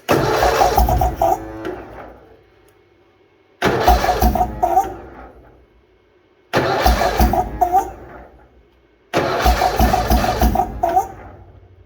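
A Bolens HT-23 garden tractor engine cranks and tries to cold start in -40 weather, with four separate bursts of cranking and brief firing, each fading into silence before the next attempt.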